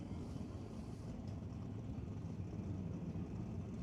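Small-block Ford engine in a 1985 Mustang drag car with Edelbrock heads, a distant steady low rumble at a drag strip during qualifying, continuous and fairly faint.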